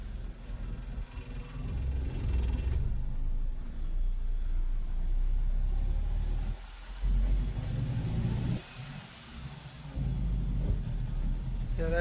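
A TVS Raider motorcycle engine rumbles low and steady while riding, a loud continuous drone with wind noise and a few brief dips as the throttle eases.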